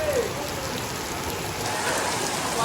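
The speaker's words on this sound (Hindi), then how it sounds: "तो अल्लाह मियाँ ने ऐसी बारिश कर दी" Heavy rain pours steadily on surfaces in Mansehra, a dense, continuous hiss of drops close by with no pauses and no voices.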